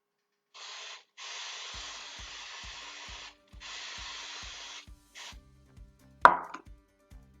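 A cloth rubs lubricant over the outside of a cement flowerpot mould in long, steady hissing strokes with short pauses, joined by a regular faint knocking and one sharp clunk near the end.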